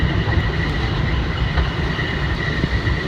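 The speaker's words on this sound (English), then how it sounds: "this is one of the railroad's faster trains" An LIRR M3 commuter train runs steadily on the rails in the early morning between Jamaica and New York, a loud, continuous rumble with a faint high whine carrying through and no voices.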